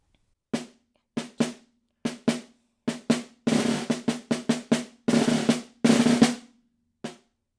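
A snare drum plays an etude passage, starting with separate crisp strokes and moving into dense buzzing rolls that grow louder before ending on a single accented hit.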